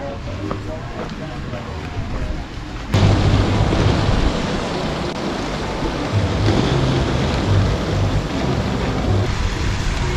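Rushing water of the Yaque del Norte river near Jarabacoa, a loud, steady broadband roar that swells and stays strong after the first few seconds, with no voices on top.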